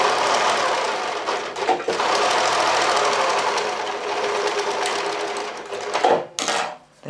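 An overlocker sewing machine stitches stretched fabric in a fast, steady mechanical whir close by, with a short pause early on and a stop near the end before it briefly starts again.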